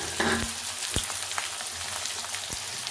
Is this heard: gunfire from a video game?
no